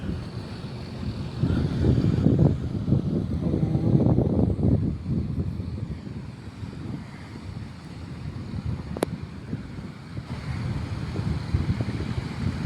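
Sea waves roll in at Neelankarai beach in Chennai as a steady, low rushing wash of surf, mixed with gusty wind buffeting the microphone and no voices.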